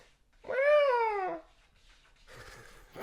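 A house cat gives one clear, drawn-out meow up close, rising then falling in pitch, with faint rustling afterward.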